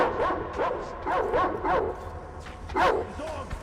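A dog in Metro Exodus, in the Caspian area, lets out a run of sharp, repeated barks and yips in clustered bursts, fairly close and loud over a low game background.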